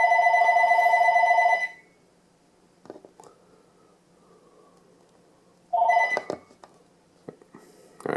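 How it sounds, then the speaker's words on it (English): An indoor telephone rings loudly and close in two bursts of rapid electronic trilling separated by a pause of several seconds, with faint handling noises in the gap. "I do apologize about the phone,"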